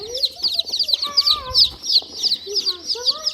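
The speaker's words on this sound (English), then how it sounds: "We got more chickens." Several chickens cluck and chirp close by in quick, overlapping bursts throughout, with brief faint low background sounds.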